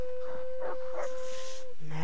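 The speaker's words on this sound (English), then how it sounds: "Man, you stupid dogs." Dogs bark in Far Cry 3, a few short yelps over a sustained whistling tone and steady background noise.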